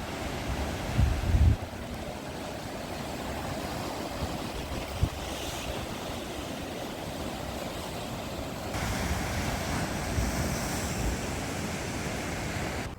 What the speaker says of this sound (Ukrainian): Лагуна і камені біля лагуни. Ну, Погано видно вже, тут нема освітлення, але це морічка, шум моря.